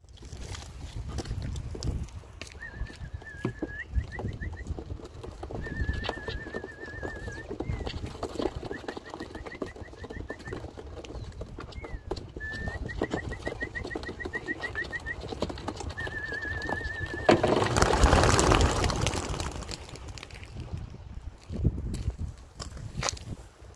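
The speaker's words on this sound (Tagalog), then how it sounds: "So yan yung mga ibon natin, 26 birds" A flock of 26 racing pigeons being released outdoors in Madrid, Spain, flutters and shuffles amid steady outdoor noise, with repeated trilling chirps and a burst of wingbeats near the end.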